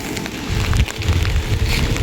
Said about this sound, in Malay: Tapi hujan, kelang kabut sikit. Aduh, serabut sikit lah hujan.